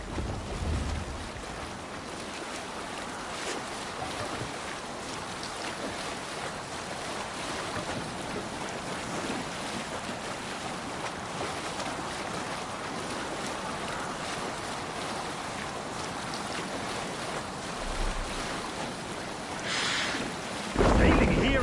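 Sailing ship at sea in the video game Assassin's Creed Valhalla, with constant wind, rushing waves and hull wash forming a steady broadband roar, plus a few brief bumps near the end.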